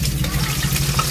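Food fries in a pan with a steady, close sizzle and a faint bubbling crackle that runs evenly through a short moment. No one speaks.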